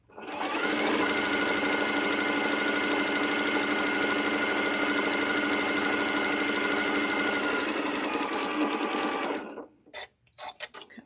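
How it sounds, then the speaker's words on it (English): A sewing machine runs at high speed in a steady, loud, continuous whir for about nine seconds, then stops, leaving a few faint clicks and handling sounds. "some speed helps too when you're sewing like this"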